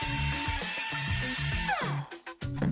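A cordless screwdriver whirs in bursts as screws are driven into bunk bed parts held with a clamp, the motor pitch rising and dropping, then stopping with short clicks and knocks near the end.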